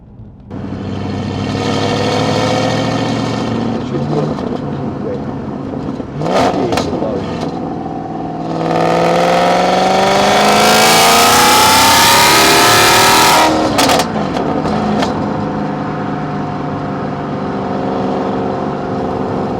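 A 2006 Maserati Quattroporte 4.2 engine and exhaust rev loudly and close, swelling through repeated rising and falling sweeps with a sharp burst in the middle, alone with no talk.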